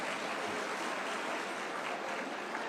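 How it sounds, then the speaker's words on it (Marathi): Crowd applause welcoming new members joining a Shiv Sena party gathering, a dense steady clapping that fills the whole stretch at even loudness with no talk over it. "अरे आता टाळ्या वाजवा ना त्यांचं स्वागत आहे ना"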